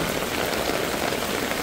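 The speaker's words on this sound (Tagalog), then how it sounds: "Ang lakas ng ulan." Heavy rain pours steadily onto pavement and road surfaces, a dense, continuous hiss that stays close and loud throughout with no voices.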